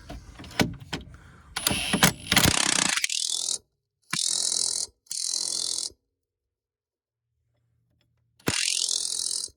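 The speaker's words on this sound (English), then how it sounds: "make this strut fit this clevis mount using my impact gun" A pneumatic impact gun hammers in several loud, close bursts while fitting a Dodge Neon strut to a clevis mount on a 1986 Chrysler LeBaron K car, with short rattling runs separated by silent gaps and clanking handling.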